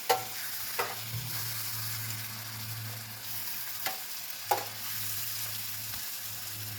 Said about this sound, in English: It is not going to take long to cook the shrimp